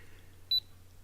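A camera remote release timer gives a single short, high electronic beep in an otherwise quiet room, followed by a faint click.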